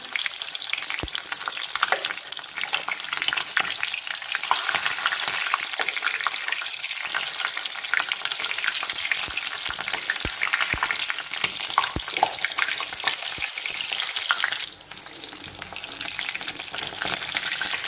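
Bengali telebhaja fritters deep frying in hot oil: a dense, steady crackling sizzle runs throughout, with a few sharp pops standing out near the start and middle.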